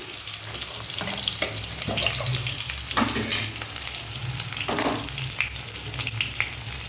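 Pieces of pointed gourd (potol) fry in hot oil with a steady, close sizzle, and sharper crackles and spatters rise now and then as they are moved around; no voices are heard.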